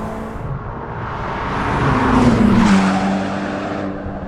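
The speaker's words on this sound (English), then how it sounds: "Revs! That's what you do with a Ferrari," Ferrari Roma Spider V8 with flat-plane crank and equal-length headers revving once, rising to a loud peak mid-clip and falling back, close by.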